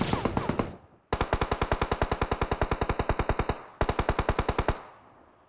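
Automatic gunfire in PUBG Mobile: a long rapid burst of close, loud shots, a brief pause, then a second shorter burst, with a fading tail between and after.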